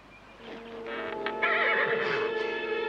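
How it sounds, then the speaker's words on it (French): A horse gives a loud, close whinny that rises and wavers for over a second, with faint hoof clatter in a quiet countryside stable. "C'est un cheval splendide."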